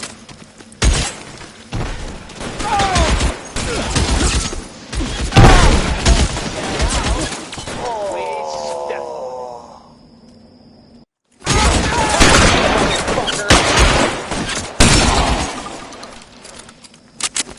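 Gunfire crackles in sharp bursts during a shootout in the video game L.A. Noire, mixed with shattering glass and heavy thuds, loud and chaotic, broken by a sudden moment of silence before the firing resumes.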